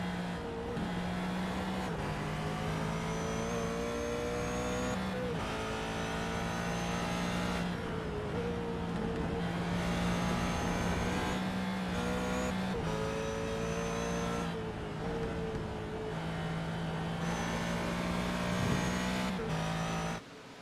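Several race car engines at Lime Rock Park in a racing video game run steadily, rising and falling through gear shifts with repeated revving and downshifts. The sound stays loud and close for the whole stretch, with no talk over it.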